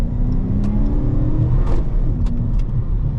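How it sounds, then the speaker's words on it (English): A Dodge Charger R/T's exhaust rumbles and whirs as it accelerates, a deep steady drone close by with a few brief sharp clicks. "The exhaust note, at least for this one, is not going to be as loud as the Challenger"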